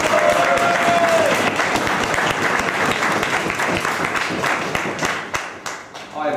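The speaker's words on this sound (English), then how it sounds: "an equally loud applause." Loud audience applause at a schools debating championship quarterfinal, dense clapping that fades toward the end as a few last claps trail off.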